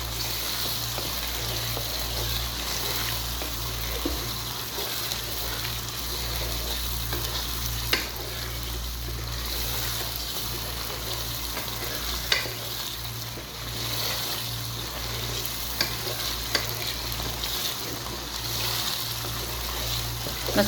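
Palak gosht, spinach with mutton, frying and being stirred in a pan over a high flame, giving a steady, loud sizzle with occasional clinks of a utensil throughout and a low hum beneath, with no talking.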